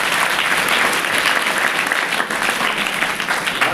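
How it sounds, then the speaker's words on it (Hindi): An audience of school students applauds at a school event, a loud, dense burst of clapping that holds steady for the whole stretch. "वेरी गुड, उनके लिए ताली बजाओ सब।"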